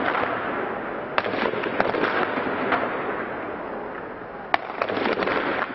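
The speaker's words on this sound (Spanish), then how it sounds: "Los disparos con armas automáticas fueron hechas a partir de las 4 horas local" Scattered sharp cracks of automatic weapon gunfire from a pre-dawn clash between Mubarak supporters and opponents pop at irregular intervals over a steady background hiss, some in quick clusters, sounding moderately distant.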